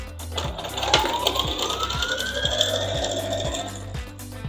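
A sewing machine runs a seam on fabric for a homemade garden tower, its needle knocking in a fast, even rhythm close up and steady throughout, with a faint whine rising over it and no talk.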